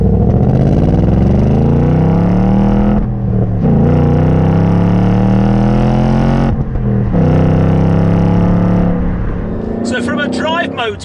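A 2018 Ford Mustang GT V8 accelerates hard through the gears, its loud, close engine note rising in pitch in long sweeps, broken by quick upshifts, with a whirring rasp near the end.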